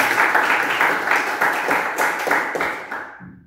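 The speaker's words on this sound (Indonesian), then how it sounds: "Tepuk tangan dong buat Ardi" Classroom applause for a student, a short burst of many hands clapping steadily up close, fading out after about three seconds.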